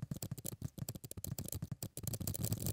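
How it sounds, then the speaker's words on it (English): Fast, crisp clicking of ASMR keyboard typing, with rapid keystrokes tapping in an irregular, dense rhythm, close and fairly quiet, with no voice over them. "you have ASMR keyboard sounds"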